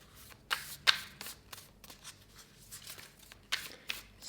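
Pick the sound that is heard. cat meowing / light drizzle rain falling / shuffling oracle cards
shuffling oracle cards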